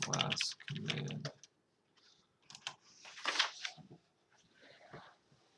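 Keys clatter on a computer keyboard in short bursts of rapid clicking with brief pauses between them, close and clear against a quiet room.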